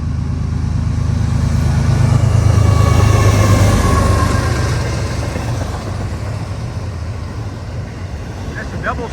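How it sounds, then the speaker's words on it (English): A CSX double-stack container freight train rolls past at night near a rail checkpoint north of Greencastle, Indiana, a steady loud rumble of wheels and engine that swells then eases slightly as it goes by, close to the listener. "That's a double stack container train."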